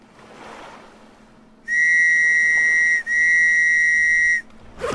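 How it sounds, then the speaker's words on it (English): A whistle blown in the video game Stranded Deep: two long, steady, piercing shrill blasts, each over a second, separated by a brief break, loud and clear with no talk over them. "I got a whistle."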